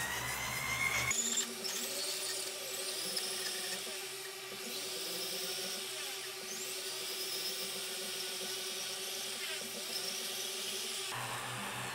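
Silver and brass pieces are sanded on a spinning 1000 grit disc, a steady whirring, grinding drone with a squealing edge that runs for roughly ten seconds between sharp start and stop clicks.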